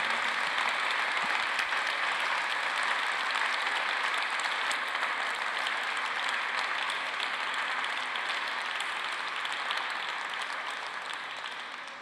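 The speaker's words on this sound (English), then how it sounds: "I'd like to request a round of applause for the PPF team and MCI" Sustained audience applause at the closing ceremony of the Paris Peace Forum, a dense, even wash of clapping from a large hall that holds steady for a long stretch before slowly fading at the end.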